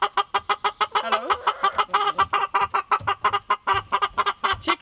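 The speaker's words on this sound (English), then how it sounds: "Chickens always have something to say." Chickens cluck close by in a rural cottage yard, giving a rapid, rhythmic series of loud clucks that repeat steadily throughout, with no one speaking over them.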